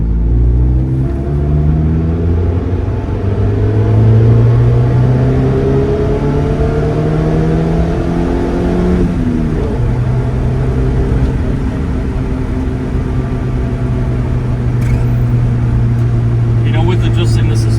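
Honda Civic with no power steering rolling through a slow U-turn, a steady low engine rumble with slight rising and falling tone, close and continuous, with a voice talking over it.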